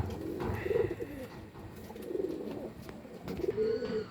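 Pigeons cooing softly at a breeding setup, several low throaty coos repeating in bursts against a steady outdoor background, with no talk.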